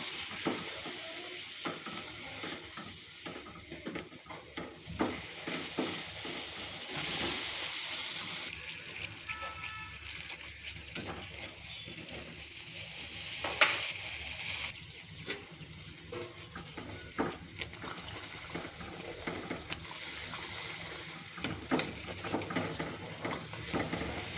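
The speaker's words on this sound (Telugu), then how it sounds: "ఇక్కడ పూరీలు వత్తుతున్నాను ఆయిల్లో ఫ్రై చేస్తాను అన్నమాట" Puris fried in hot oil in a home kitchen for an aloo curry breakfast, giving a steady broadband sizzle with bubbling and occasional clinks of a utensil, moderately close and continuous without talk.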